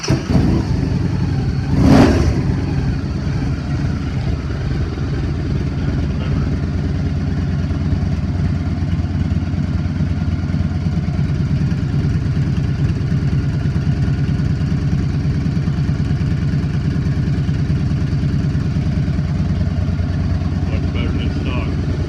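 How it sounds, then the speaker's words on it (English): A Victory motorcycle fitted with a Lloyd's air cleaner and fuel tuner runs close by with a steady, loud mid-pitched engine rumble and a brief rev near the start, with a voice also present. "So I did the Lloyd's fuel tuner, and so well, I'll let you hear what it sounds like."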